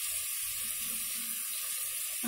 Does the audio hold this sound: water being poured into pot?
yes